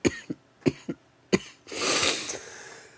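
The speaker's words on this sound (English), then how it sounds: "I'm just coughing like shit." A man coughs several times in short sharp bursts, close and loud, followed by a longer breathy rasp.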